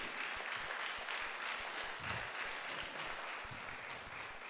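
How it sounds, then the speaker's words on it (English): Applause at a funeral service, a steady wash of clapping from the gathered mourners that fills the whole stretch at moderate, even loudness. "Can we all give this lady a round of applause for me"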